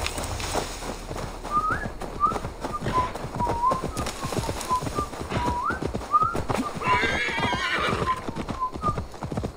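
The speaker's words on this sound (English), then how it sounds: "This is how I ride my skeleton horse" Skeleton horse in the Assassin's Creed Valhalla video game, hooves clip-clopping in a fast steady gallop with repeated whinnies and neighs rising over the hoofbeats, loud and close throughout.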